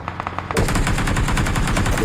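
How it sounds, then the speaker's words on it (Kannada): Rapid automatic gunfire from a multiplayer shooter game, starting after a short quieter stretch of lighter shots and then continuing as a loud, dense burst of repeated shots. "ಗನ್ ಚೇಂಜ್ ಎಲ್ಲ ಮಾಡ್ಕೊಂಡು ಹೊಡಿತಾ ಇದ್ದೀನಿ"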